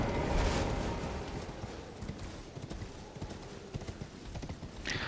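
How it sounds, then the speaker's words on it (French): A horse galloping in Elden Ring gives a steady rumbling clatter of hoofbeats over a windy, noisy bed, moderately loud and continuous throughout. "On va prendre le cheval."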